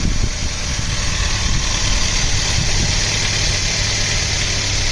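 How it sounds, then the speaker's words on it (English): A car engine idles steadily after starting, a close, continuous low rumble with a faint rattle and no talk, in a car with a suspected failing alternator, dimming lights and slow wipers. "Now the car is started."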